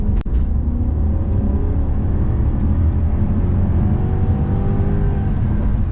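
BMW E31 8 Series with a swapped M60B44 V8 driving in manual shift mode, a steady loud engine drone and road rumble with rising harmonic sweeps as revs climb, continuous throughout.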